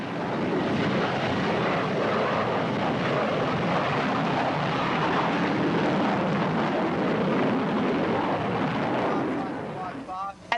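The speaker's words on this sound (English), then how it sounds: "flight crews competed with the roar of jet engines to explain the intricacies of the Navy's F-14" Jet engines of Navy F-14 Tomcat fighters roar at a naval air station, a loud, steady, broadband rush that holds for about ten seconds before easing off at the end.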